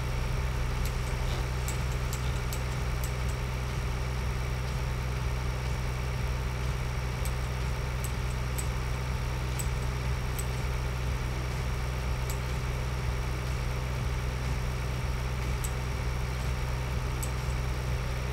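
Steady idle of a tractor engine in Farm Simulator 2013, a constant low droning hum that holds without change throughout, with faint ticking clicks above it and no talk.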